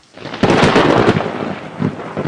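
Thunder of a heavy storm as a sound effect: a loud, close, rolling crack and rumble swelling after a brief quiet start, then a second lower grumble near the end, with no voices.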